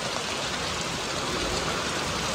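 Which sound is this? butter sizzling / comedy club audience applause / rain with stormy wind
rain with stormy wind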